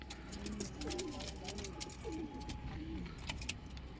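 Several soft, low cooing calls from pigeons in a pigeon loft repeat through the clip, close by, over a steady background of other chirps and outdoor noise.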